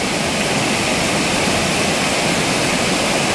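A swollen river rushing past, a loud, dense, unbroken roar of churning water filling the scene with no pauses or voices.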